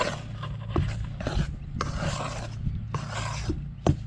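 Damper dough is stirred in a bowl, giving thick, scraping, rasping strokes in irregular bursts with soft knocks of the spoon, close and moderately loud.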